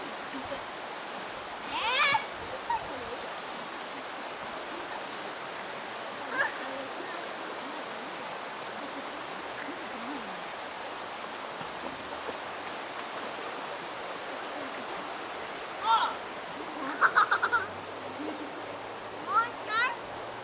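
A river beside a farm flows with a continuous soft wash, while brief distant voices or calls rise above it now and then.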